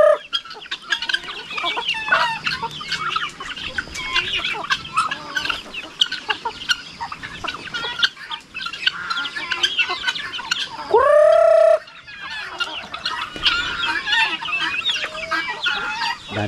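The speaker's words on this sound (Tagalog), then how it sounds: "Yan yung mga manok, lumapit na." Farm chickens cluck busily and close by, a dense run of short calls; partway through, a longer rising crow-like call stands out before the clucking resumes. No voices are heard.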